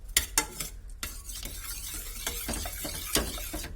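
Cooked pumpkin being mashed by hand in a pot for pudding, soft wet squishing and scraping with occasional sharp clinks of utensil against the vessel, steady and close, no talk.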